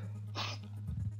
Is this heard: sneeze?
yes